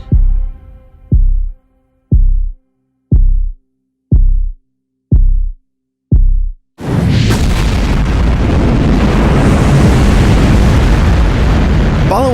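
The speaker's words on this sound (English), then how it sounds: "10, 9, ignition sequence start." Apollo 11 rocket ignition and launch, preceded by seven evenly spaced deep booming beats, then a sudden sustained thunderous roar that fills the rest of the clip.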